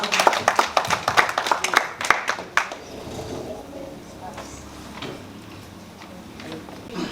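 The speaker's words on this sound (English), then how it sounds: "let's give them a round of applause" A small group claps during a poultry farming presentation, with brisk, distinct handclaps close by for about two and a half seconds before fading into quiet room noise.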